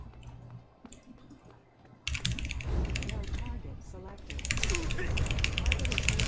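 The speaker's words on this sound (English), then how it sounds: "I'm sorry about the keyboard" Computer keys clatter in quick irregular bursts, sparse at first and then much louder and denser after a sudden jump in level, with some talking mixed in.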